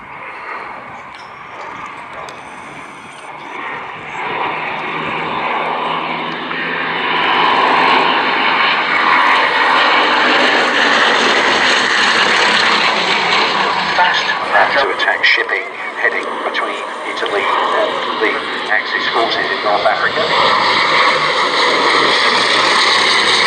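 The piston engines of a Bristol Blenheim bomber roar during a flypast at a Shuttleworth Collection military pageant air show, swelling from distant to loud and sustained while a commentator talks over them.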